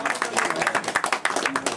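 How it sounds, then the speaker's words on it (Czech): An audience claps briefly and somewhat faintly in a hall, with uneven individual claps and some voices underneath. "Tak jo, potlesk ještě jednou pro oba."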